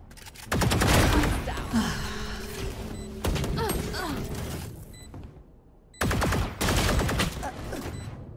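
Gunfire in the tactical shooter game Valorant, several loud bursts of rapid shots separated by brief pauses, with game voice lines and effects in between.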